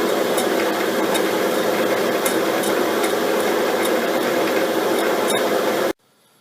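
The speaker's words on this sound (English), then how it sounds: "Just doing our last cut now with the shear tool." A metal lathe turning at 160 RPM takes a final finishing cut with a shear tool, giving a steady, continuous scraping hiss with faint ticks that stops abruptly near the end.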